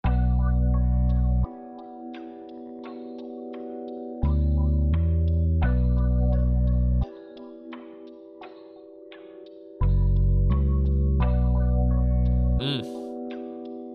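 A looped percussion pattern of clicky, ticking hits over a steady sustained tone, processed with EQ and ShaperBox auto-pan, cutting in and out in blocks, with a brief swooshing burst near the end.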